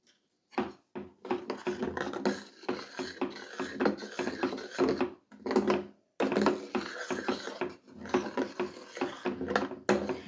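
Onions and chili powder being sautéed and stirred in a pan for rajma, with a spoon scraping and clattering against the pan in irregular bursts separated by brief pauses.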